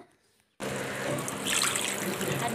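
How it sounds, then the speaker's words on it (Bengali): After a brief near-silence, water is suddenly poured into a pan of chicken kosha that has been fried until the oil separates, making a steady, close, splashing rush that continues to the end. "আমি দিয়ে দিচ্ছি জল দেখো আমি জল দিয়ে দিচ্ছি"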